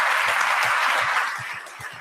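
Applause for the police in an Italian radio broadcast: a dense, steady wash of many hands clapping, moderately loud, easing slightly in the last half second.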